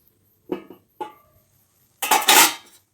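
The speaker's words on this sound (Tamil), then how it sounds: "இப்போ மூடி வச்சிடலாம்." A lid goes onto a cooking pan of vegetable semiya kichadi on the stove: two light metallic clinks, then a louder, longer clattering rattle as it settles, with no talking.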